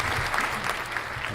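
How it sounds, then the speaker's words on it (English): Audience applause at a morning gathering, a brief steady burst of many hands clapping, moderately quiet and even with no pauses. "Hold your applause."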